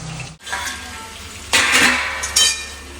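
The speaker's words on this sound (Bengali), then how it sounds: "আলু ভাজা হয়ে গেছে, তুলে নিই" Potatoes sizzle in a hot pan as a broad steady hiss, with louder bursts of stirring and scraping as they are lifted out. No voices.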